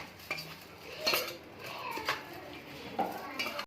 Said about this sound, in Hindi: और अब हमने ये सारा मसाला डाल दिया है और अच्छे से करेंगे इसको मिक्स।